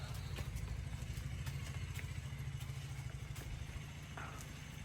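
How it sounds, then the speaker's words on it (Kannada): A motorcycle engine idles with a steady low, throbbing rumble, quiet and somewhat distant, running evenly throughout with no voices. "ವರ್ಕರ್ಸ್ ಯಾರೋ ಬೈಕ್ ಸ್ಟಾರ್ಟ್"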